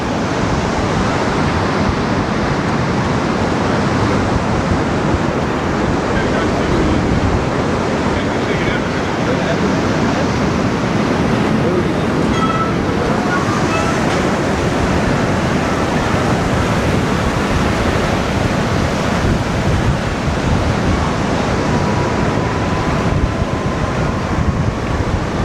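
Strong wind roars across the microphone on the Benidorm seafront, with waves surging underneath in a dense, continuous wash, loud and unbroken throughout.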